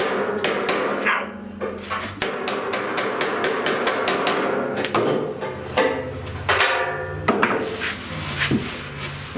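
Dent repair tools hammer a badly dented 1969 C10 fender: sharp, fairly close metal-on-metal blows in irregular runs, some quick and rapid, others spaced out, with scraping between strikes.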